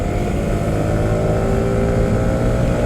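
A Yamaha R15M 150 cc sport motorcycle rides at speed, its engine giving a steady loud drone mixed with rushing wind.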